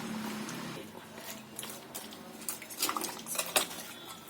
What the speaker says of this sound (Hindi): सारी चीजों को अच्छी तरह मिक्स कर देंगे।